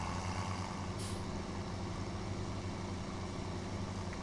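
A truck engine rumbles steadily in the Farming Simulator video game, with a brief sharp hiss of air brakes releasing early on, and no one talks over it.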